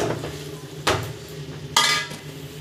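Biryani masala and salt being stirred in a pot, with soft scraping and two sharp metallic clinks of a spoon against the pot, close and clear.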